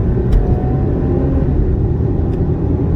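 A 2001 Toyota Avalon with 366,000 miles idles along in a steady low rumble, heard from inside, rolling slowly with no gas, no revving or acceleration.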